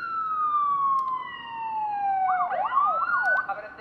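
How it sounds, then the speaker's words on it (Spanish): A police siren sound effect plays from a Tesla's external speaker: a long falling wail that then breaks into a rapid warbling yelp, clear and moderately loud with no voices. "aproveché para meterle más sonidos, que son estos de policía"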